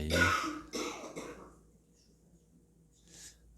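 A couple of harsh coughs close up at the start during a hatha yoga session, followed by quiet room tone with a soft breath near the end.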